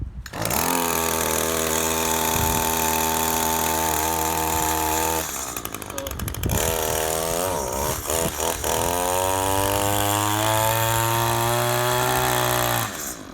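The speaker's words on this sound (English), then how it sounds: "Now that we got a pop in there, the engine's about to start." A small petrol engine catches and runs at a high, buzzing idle, breaks off briefly in the middle with a few sputters, then revs back up and keeps running loudly to the end.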